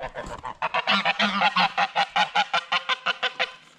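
Farm geese honk loudly and close as they are let out, a dense rapid run of repeated calls that starts in a jumble and settles into an even, pulsing rhythm, with no talking.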